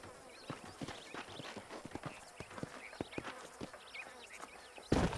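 Steady clip-clop of horse hooves walking at an even rhythm in Red Dead Redemption on Xbox One, close and clear, with a faint ambient background and a brief louder burst at the end.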